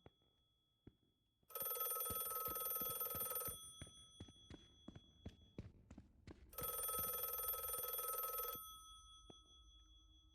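An old-fashioned telephone bell rings in two long bursts in the video game The Last Case of John Morley, separated by a pause filled with footsteps and thuds, all in an otherwise quiet room.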